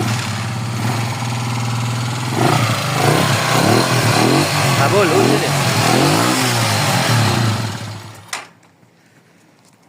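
A motorcycle engine idles close by with a steady throb and slight rises in revs while people talk over it, then the engine shuts off.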